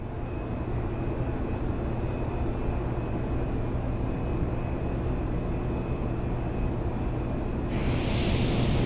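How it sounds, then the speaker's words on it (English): A glider flying in a video game: a steady, loud broadband rush of air and engine-like drone with a faint high whine, holding constant throughout and swelling brighter near the end. "Okay, so I'm in the glider."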